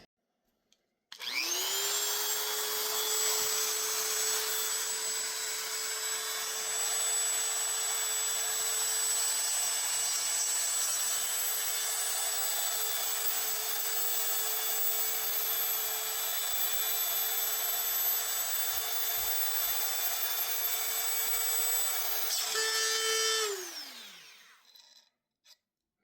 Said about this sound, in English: let me show you how I'm drilling the holes in these beads that I've made.